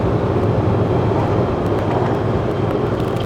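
Honda Gold Wing motorcycle (2026 model) droning steadily while riding, a continuous low engine hum with wind noise throughout, loud and close, with no talking.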